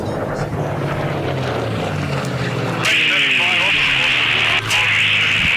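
Unlimited-class race planes roar past at the Reno Air Races, a loud sustained engine drone that swells with a sharp rise midway, heard under a commentator's voice throughout.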